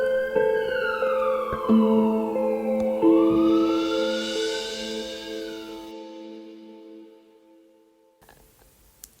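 An ambulance siren wails with rising and falling tones, loud and close, then cuts off abruptly, leaving near silence before a brief noise at the end.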